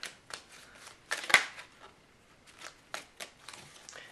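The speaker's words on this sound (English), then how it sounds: "you can do the side shuffle like this" A Smith Waite Centennial tarot deck is side shuffled close up, giving soft, quiet bursts of riffling card flutter in irregular clusters.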